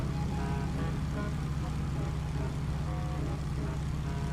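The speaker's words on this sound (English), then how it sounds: "now we can hear the airplane" Stearman A75 biplane with its radial engine in Microsoft Flight Simulator 2024, a steady loud droning rumble with a strong low throb, constant and unbroken from start to finish.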